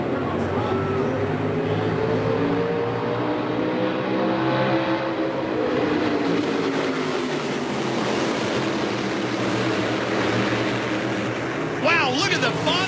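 NASCAR Whelen Modified Tour race cars roaring at the green flag at the Magic Mile, a dense, loud pack of engines sweeping past continuously with rising and falling tones as commentators talk over them.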